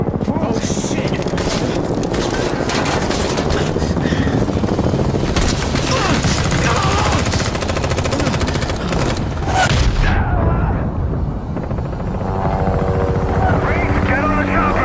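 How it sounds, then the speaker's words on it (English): A helicopter roars close and loud in the video game Gears of War: E-Day, its rotor chopping through bursts of gunfire and explosions before the clamor thins out near the end. "Get on the chopper!"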